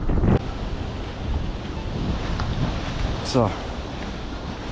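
Strong wind buffets a microphone outdoors during a metal-detecting outing, a constant rumbling roar with gusty surges, and someone briefly speaks.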